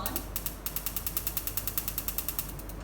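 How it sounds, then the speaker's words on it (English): A stove knob is turned on, giving a quick, steady series of close, crisp ratcheting clicks, evenly spaced and repeating for about three seconds. "I'm going to turn the stove"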